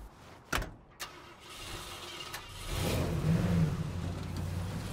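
A car engine in the zombie-survival game State of Decay 2 starts with a couple of sharp clicks, then swells into a steady mid-range rumble that rises and holds for the last few seconds.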